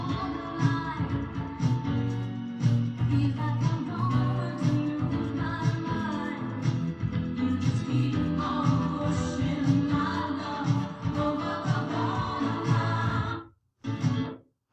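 A recording of a pop song plays continuously with full band, bass and vocals at steady volume, cutting off briefly near the end.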